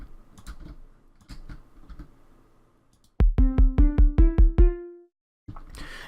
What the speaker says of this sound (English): So I've laid out these stone blocks here, just so we can hear how that sounds.